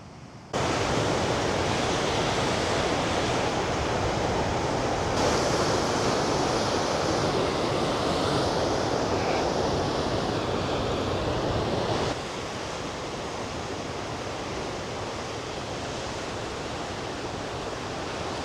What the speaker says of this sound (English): coming down here to the beach on a day like today with the waves and stuff out there